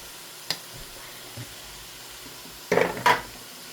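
Fenugreek and spinach greens are stirred in a hot pan with spice masala. There is a quiet scrape early on, then a louder burst of scraping and sizzling near the end.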